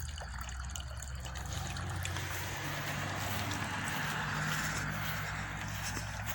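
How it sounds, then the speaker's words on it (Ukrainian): Steady trickling and splashing of water running continuously into a newly built backyard pond, with a low hum underneath and no voices. "Пустив сюди воду."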